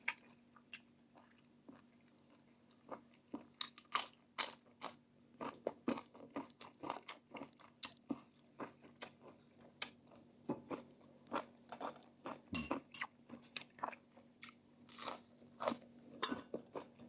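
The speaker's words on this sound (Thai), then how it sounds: "กรุบกรุบอร่อยมาก" Close, quiet crunching and chewing of Mon-style fish-head curry with pickled marian plum, irregular crisp bites repeating over a faint steady hum, with no talking.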